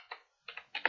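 Code being typed on a computer keyboard during a Unity game-programming session: three short bursts of close, crisp key clicks with a pause between the first and second, the last burst louder.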